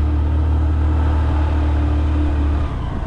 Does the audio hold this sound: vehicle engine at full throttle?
yes